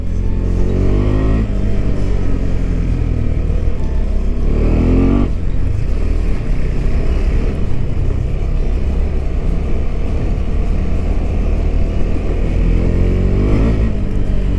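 KTM 390 Adventure motorcycle engine accelerating on a dirt trail, a loud continuous single-cylinder roar rising through several gear pulls with traction control working, heard up close without speech.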